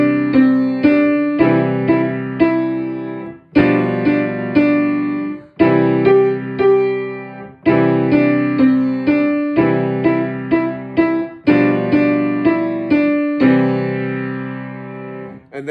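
Piano plays the simple nursery melody Mary Had a Little Lamb with the right hand over left-hand chords, struck in clear rhythmic phrases with short pauses between them, close and fairly loud, with no talking.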